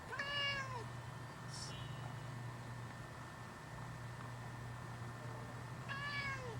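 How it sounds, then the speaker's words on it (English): A cat meows outdoors, close and clear, with one drawn-out call at the start and another near the end over a steady low hum and hiss. "Cat, you're outside. Why are you still meowing?"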